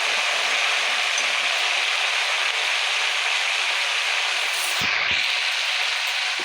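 Tempering of curry leaves for gongura red chili pickle sizzles steadily in a pan, a continuous loud hissing fry with a brief stir or clatter near the end and no talking.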